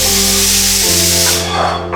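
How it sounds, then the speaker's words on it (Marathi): A kitchen pressure cooker lets off a loud, steady hissing whistle of escaping steam that holds strongly and then trails off near the end, alone with no voices. "आला आला कुकरचा आवाज आला कुकरचा आवाज आला"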